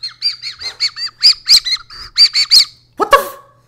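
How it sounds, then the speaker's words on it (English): A toy bird whistle blown in a video game gives a quick run of bright warbling chirps and tweets, ending in a harsher squawk-like burst. "I guess you put it up to your mouth and they whistle"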